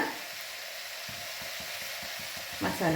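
Ground masala paste hits hot oil in a pan for chana masala, bursting into a steady close sizzle with rhythmic stirring scrapes, ending in a louder crackling flare.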